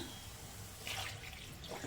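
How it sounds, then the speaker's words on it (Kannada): Water splashes and trickles steadily into a pot of mushroom gravy, a soft pouring sound with a couple of louder gushes, close by and without talk. "ಈಗ ನಾವು ಮಿಕ್ಸಿ ತೊಳೆದಿರೋ ನೀರನ್ನು ಸೇರಿಸ್ಕೊಳ್ಳೋಣ"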